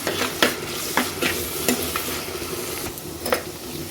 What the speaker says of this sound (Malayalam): നമുക്ക് നിളക്കി ഇഞ്ചി വെളുത്തുള്ളി പച്ചമുളക് സവോളയായിട്ട് നന്നായിട്ട് നിളക്കി കൊടുക്കാം